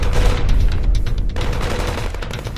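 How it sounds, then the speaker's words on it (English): Dense, sustained gunfire in a Western-style ambush, with rapid overlapping shots and booms that stay loud and close throughout, no voices. "Slowly, the gunfire came to a stop as Trevor and Beck looked up."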